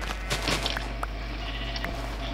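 Sheep bleating in the video game Minecraft, several short bleats rising above a steady low background hum, with no talk over them.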